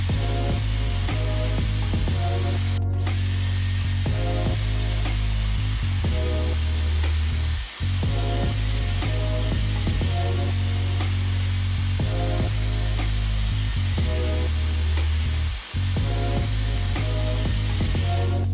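A Dyson Airwrap hair styler blows air in a steady, loud continuous whir with a constant hum, briefly interrupted a few times, and no talking.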